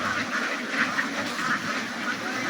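Many ducks quacking together in a busy, overlapping chorus at a duck farm, close by and continuous, with no talking.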